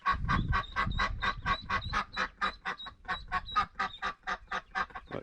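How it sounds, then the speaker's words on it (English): Little ducklings on a farm quacking rapidly in a steady, repeated rhythm, close and fairly loud, with some low rumbling underneath at the start. "Little ducks need water."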